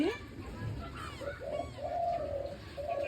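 Soft, repeated dove coos drift in over low background rumble, a few muffled calls spread across the moment.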